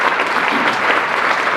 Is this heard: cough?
no